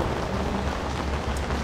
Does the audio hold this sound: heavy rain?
yes